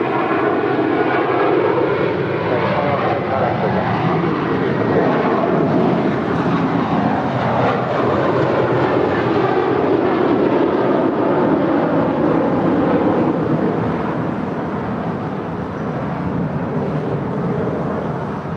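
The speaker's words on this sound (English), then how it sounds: "not sure where that flight was headed" A jet airplane passing at LAX airport, a loud, continuous engine roar that stays strong throughout and eases off only slightly toward the end.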